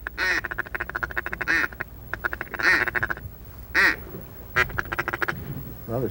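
A flock of wild ducks quacks loudly in rapid repeated bursts during a late-season duck hunt, several birds calling close by with short pauses between series.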